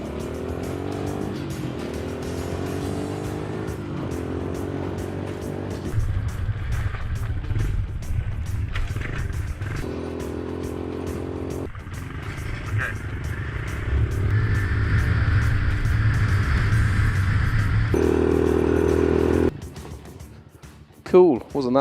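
A 110cc mini cross motorbike is ridden hard, its small engine revving loudly and shifting pitch through gear changes over steady wind noise, ending with a brief skid or clatter.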